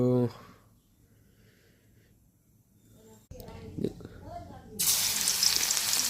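Crushed garlic hits hot oil in a wok for an olive pickle, bursting into a loud, steady hiss for the last second or so, after quieter stretches with people talking.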